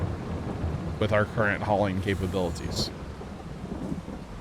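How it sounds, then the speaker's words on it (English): Rain and rolling thunder from a Farming Simulator 22 storm on the Elm Creek map play as a steady low wash beneath someone talking throughout, with no distinct clap standing out. "It is raining currently. I mean, it is raining in game."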